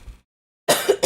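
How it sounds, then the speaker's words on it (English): A person coughs at close range, a short burst of two harsh coughs after a brief silence. "I apologize for the coughing."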